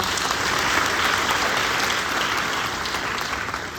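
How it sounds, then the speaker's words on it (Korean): An audience at a school economics symposium applauds steadily for a speaker, a dense, even wash of many hands clapping that holds for several seconds and tapers slightly at the end, with no voices over it. "다시 한번 큰 박수 부탁드립니다"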